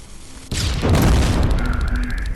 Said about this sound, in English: I'm going to go ahead and throw a pipe grenade at that one